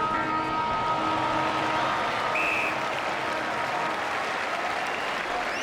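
Carlton fans applaud at an AFL football match against Geelong, a broad sustained wash of crowd clapping filling the stadium, steady and loud throughout.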